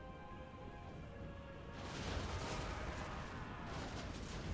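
Bolt throwers loose volleys on a Total War: Warhammer 2 battlefield, a faint distant rumble of impacts that thickens partway through and rolls on steadily beneath the battle ambience.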